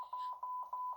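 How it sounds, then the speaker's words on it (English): An electronic alarm beeps in quick, evenly spaced pulses over a steady tone, faint and alone. "it's gonna keep beeping"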